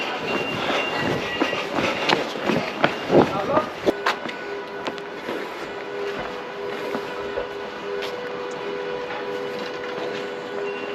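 A train in Switzerland rumbling with clattering wheels and squealing for the first few seconds, then settling into a steady hum with a tonal whine, while a person talks over it.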